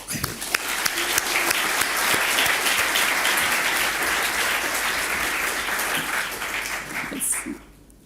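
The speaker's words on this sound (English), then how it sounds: "I think they deserve an applause." An audience in a hall applauds at an Art in Embassies event marking the programme's 60th anniversary, broad sustained clapping with a faint voice beneath that fades out in the final second.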